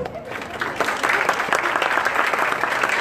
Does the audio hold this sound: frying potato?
no